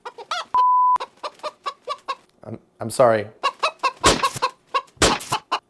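Clucking chicken sound effect: a rapid series of loud, close bawks and clucks with a squawk in the middle, mixed with a brief beep and a short spoken phrase.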